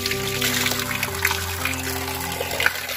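Water trickles from a large pipe at a hillside spring on Susunia Hill, a steady close-up dribble with faint splashes over a low background hum, no talking.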